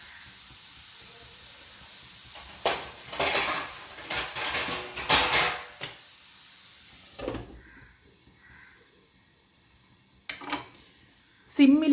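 Vegetables cooking in oil in a pan, stirred with a few clanks of utensil against metal and bursts of steamy hiss, then a lid set down, with quieter gaps between the sounds.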